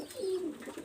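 A pigeon from a master breeder's loft gives a single soft, low coo that swells and fades over under a second, close by with no talk.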